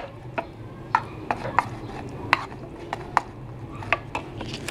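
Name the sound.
stirring tuna sandwich filling with pepper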